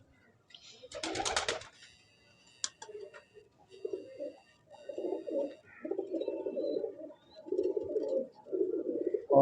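Pigeons from a breeder's loft coo in low, repeated throaty phrases that grow steadier and louder toward the end, after a brief burst of bright chirps and wing flutter near the start.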